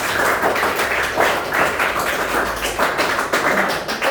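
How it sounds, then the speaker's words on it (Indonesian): A classroom of students clapping together, a dense steady patter of many hands lasting several seconds at even loudness. "Jadi tepuk tangan buat semua ya."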